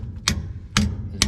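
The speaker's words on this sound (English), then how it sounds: "bang on it with a hammer" A hammer bangs on a car's brake caliper, three sharp metallic strikes with gaps between them, close and fairly loud over a low background hum.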